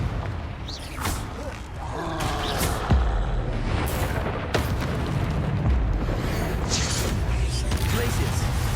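Confringo explosion spell in the Hogwarts Legacy video game, several booming blasts and bursts over continuous rumbling battle noise.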